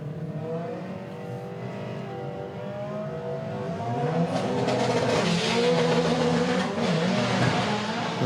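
An Opel Corsa drag car at a 2024 MDRA drag racing finals event accelerates down the strip, its engine note rising steadily through the gears and growing louder toward the end.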